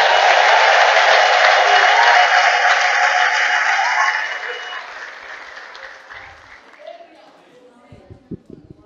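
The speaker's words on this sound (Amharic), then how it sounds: "ሞቅ ያለ ጭብጨባ አሰሙለት" A church congregation applauds warmly during a sermon, a loud, dense crowd clapping that swells and then gradually fades over several seconds, leaving scattered claps and low murmuring at the end.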